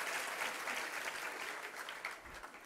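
An audience at a Jain religious discourse in Jabalpur breaks into applause, a dense, steady patter of many hands clapping that tapers slightly toward the end.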